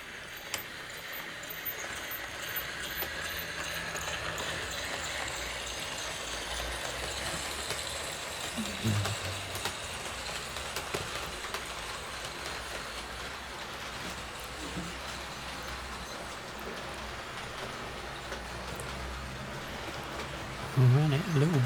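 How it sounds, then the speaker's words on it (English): A model train with magnetic couplings, Hornby and Hunt stock, runs round the track, giving a steady low rolling rumble with light clicking over rail joints, continuous for about twenty seconds with a brief louder knock near the end. "So we send that train round the track."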